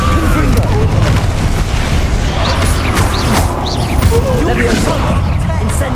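A Confringo blast spell explodes during a Hogwarts Legacy battle, with repeated booms and crashing bursts set inside a thick, unbroken roar of loud combat noise.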